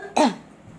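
A single short, harsh cough bursts out close to the microphone, followed by quiet background.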